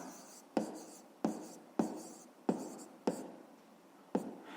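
Pen strokes writing a math answer on paper, six short scratchy strokes at a steady pace, each starting sharply and fading, close and fairly quiet with no talk.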